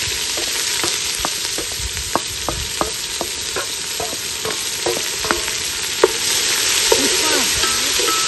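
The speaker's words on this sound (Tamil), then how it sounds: "சரி, வெங்காயத்தை போட்டுடுறேன். நல்லா பொரியும் வெங்காயம்." Chopped onions frying in hot ghee give a steady close sizzle, broken by repeated sharp clinks of a spoon against the pan and a brief louder scrape, with rain-like hiss rising near the end.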